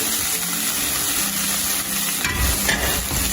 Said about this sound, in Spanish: Sofreímos un poquito el arroz.